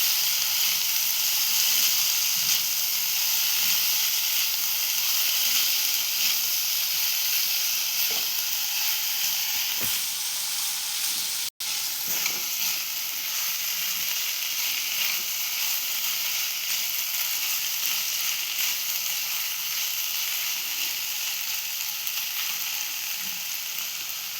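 Tomatoes fry in a hot pan with chopped green chillies for a sweet, sour and spicy chutney, giving a steady, loud sizzling hiss that runs throughout with one brief dropout midway and no voices.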